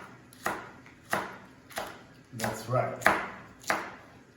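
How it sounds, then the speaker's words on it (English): Knife chopping vegetables on a cutting board into rough pieces: six sharp, evenly spaced knocks about every half second, close and crisp, with a brief spoken remark partway through. "And then we're gonna be fine chop it like this, in pieces, rough pieces"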